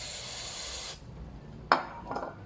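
Electronic contact cleaner is sprayed from an aerosol can onto an amplifier's volume control, giving about a second of steady close hiss that stops abruptly, followed by a sharp click and a few faint knocks.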